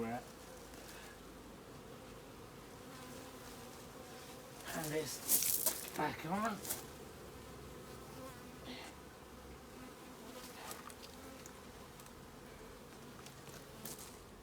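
Honey bees swarm and buzz densely around an open hive with the crown board just set on, a steady close drone broken by brief louder passes near the ear, with a voice speaking softly over it.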